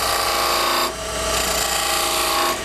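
A homemade skew chisel cuts V-grooves into a wooden bead spinning on a wood lathe, giving a loud continuous scraping, hissing cut that briefly eases off, then resumes, over the steady motor drone.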